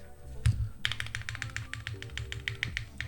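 Rapid clacking keystrokes on a Thera75 mechanical keyboard, close and steady, with a deeper thud early on, like a spacebar press.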